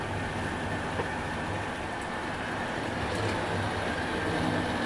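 An Oxford Rail model war train hauled by a WD locomotive runs steadily along a layout, giving a continuous, even rumble and clatter of wheels with no pauses.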